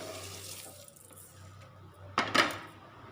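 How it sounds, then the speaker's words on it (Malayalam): Washed rice tipped into a pot of boiling water while making egg biryani: a quiet background bubbling, then a short splashing plop and a second brief splash near the end. "ഇനി ഇതിലേക്ക് കഴുകി മാറ്റി വെച്ച അരി ഇട്ട് കൊടുക്കാം."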